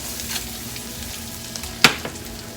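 Food sizzles steadily in a frying pan left on high heat, a dense continuous hiss with a sharper spatter or utensil tap partway through.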